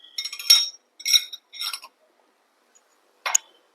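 A metal disc is set inside a sev press for making a sweet bakery-style snack, giving several short bright metallic clinks in quick groups, then a pause and one more sharp clink, close and alone.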